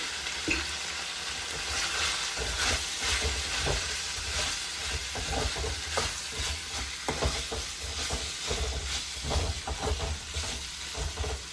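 Pepper chicken sizzles and fries steadily in a pan after a spoonful of chili powder goes in, with repeated scraping stirs breaking through the continuous close hiss.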